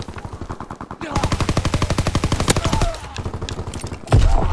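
Rapid, steady automatic gunfire rattles in a WW2 shooter video game. Loud, evenly spaced shots run for several seconds, then comes a brief lull and a heavier burst near the end.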